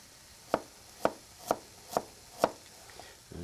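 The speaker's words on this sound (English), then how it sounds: "Now I'm going to take and cut very thin slices." A knife slicing ginger into very thin slices on a cutting board, five evenly spaced sharp chops about half a second apart, close and clear against a quiet background.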